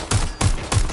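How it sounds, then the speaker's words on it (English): Gunfire in the video game Watch Dogs: Legion: three sharp, loud shots in quick, even succession, each a bright crack with a short rumbling tail. "I'm taking fire!"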